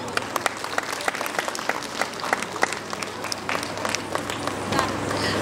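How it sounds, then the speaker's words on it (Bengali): An audience at an anniversary celebration programme claps steadily, a dense, moderately distant patter of many hands lasting the whole stretch, with faint crowd murmur beneath. "একটু করতালি হবে।"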